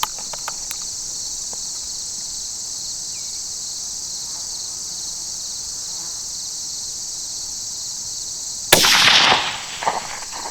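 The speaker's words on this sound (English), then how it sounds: "I shot right in front of his face that last shot" A single sharp gunshot while hunting, loud and sudden near the end after a long stretch of constant cricket and insect buzzing outdoors, followed by a brief rustle and no speech.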